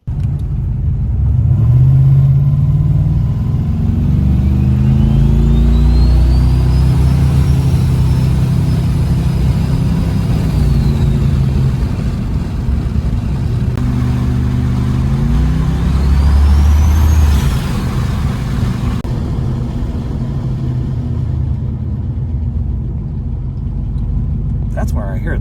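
A Dodge Diplomat engine idles steadily while oil burns off its manifolds, a loud, close, continuous rumble with slight rises in pitch that holds for the whole stretch.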